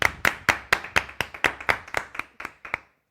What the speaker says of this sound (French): Et on applaudit toute l'équipe.